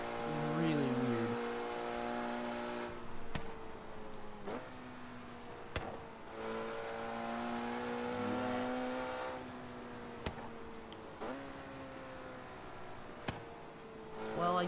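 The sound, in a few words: KTM X-Bow engine revving in Forza Horizon 3 video game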